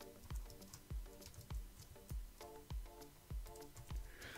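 Someone types on a computer keyboard, a quiet series of evenly spaced key taps, about eight distinct strokes in a steady rhythm.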